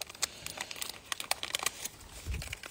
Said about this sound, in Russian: Снимаю формы с липкой основы